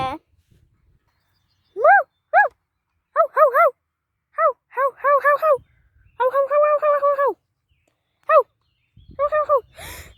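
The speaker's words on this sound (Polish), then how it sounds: "To Fifi, co ty tutaj robisz, piesku mój kochany?" A pet dog gives a series of high, rising-and-falling whimpering yelps, alone or in small clusters, close and fairly loud, with quiet gaps between them.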